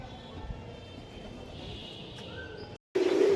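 Pigeon cooing beside a young squab and a Shahjahanpuri bhura pigeon at a pigeon sale, steady low murmuring coos against faint background noise, ending in a louder burst after a brief gap.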